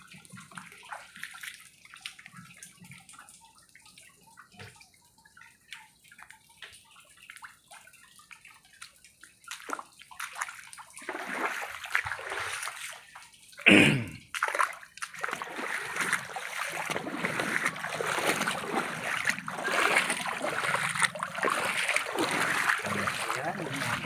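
Feet wading through knee-deep flood water on a flooded street in Dampalit, with sloshing and splashing that starts soft and patchy and then turns steady and louder, broken by one sharp splash partway through.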